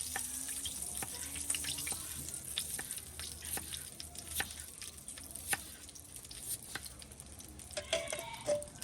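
Peeled seafood is washed under running water, a continuous splashing stream broken by frequent wet clicks and knocks of handling, close and fairly steady throughout.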